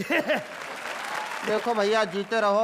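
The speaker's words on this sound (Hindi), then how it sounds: "तालियां।" A crowd claps in steady broadband applause that runs through the middle of the clip while someone speaks over the start and end.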